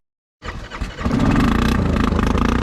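A lifted Honda Foreman 500 ATV engine catches after a moment of silence, sputtering briefly before settling into a loud, steady, close-up idle with a rhythmic putter.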